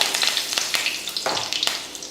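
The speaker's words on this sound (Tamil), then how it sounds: "இப்போ இதை தாளிக்கலாம் எண்ணெய் நல்லா காஞ்சதுமே கடுகுளுந்து கொஞ்சம் கருவேப்பிலை" Close, crackling sizzle of mustard seeds popping in hot oil, with irregular sharp spits and hisses and no talking.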